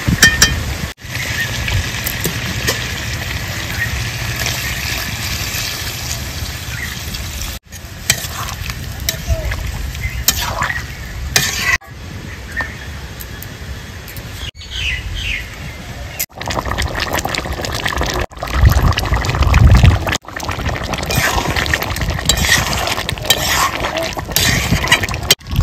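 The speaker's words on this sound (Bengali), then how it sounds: "এবার আমি জল দিয়ে দেবো।" Water poured into chicken curry frying in a pan in a village kitchen, a steady loud sizzle with stirring and liquid splashing that carries on for about twenty-five seconds, a few brief breaks along the way.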